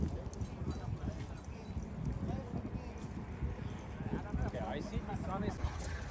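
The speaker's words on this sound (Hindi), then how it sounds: "अभी हम कार्ट राइड कर रहे हैं। देखो हमारा घोड़ा" A horse's hooves clip-clop along while it pulls a passenger cart in Cairo, Egypt, making a steady trotting rhythm through busy street noise. Voices talk over it.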